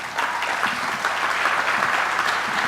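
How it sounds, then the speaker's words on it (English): A conference audience bursts into steady, full applause for a county commissioner at an event about Blue Origin coming to Cape Canaveral. The sound is dense and sustained, heard alone. "Ladies and gentlemen, your applause, please, for Commissioner Robin Fisher"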